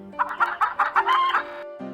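A hen gives a quick run of clucks that rises into a brief squawk. The clucking is loud and close, lasts under two seconds and is heard alone.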